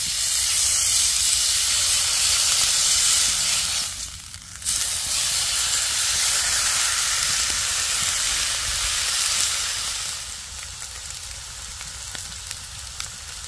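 A T-bone steak sizzles over a campfire in a snowy winter camp, a loud continuous frying hiss and crackle that fills the whole stretch, easing briefly once before carrying on.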